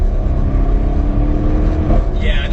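A car fitted with an upgraded Akrapovic exhaust system drones steadily and loudly at close range, a low rumbling engine note held throughout with little change in pitch.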